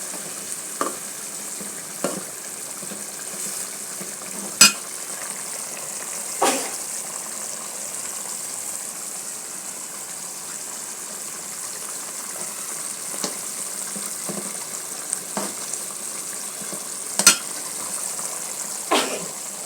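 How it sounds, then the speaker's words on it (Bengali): Rohu fish fries in a pan, giving a steady soft sizzle with intermittent scraping clicks as it is stirred, close and fairly quiet, no talk. "আমি আর একটু নেড়ে দেবো।"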